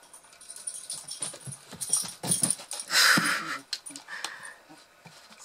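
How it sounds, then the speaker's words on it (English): A puppy close by whimpers and wheezes in short, uneven bursts, with light clinking and rustling during a bracelet-making session. "Silly puppy."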